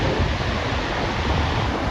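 One of the biggest waterfalls, heard up close as a loud, steady broadband roar of falling water with no pauses.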